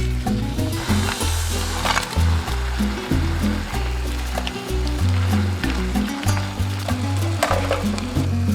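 Dal tadka fries in a pan with onion, cumin, tomatoes and asafoetida, giving a loud, continuous close-up sizzle with small crackles and stirring noises throughout.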